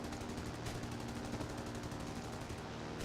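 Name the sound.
Sunderland top turret machine gun firing, War Thunder video game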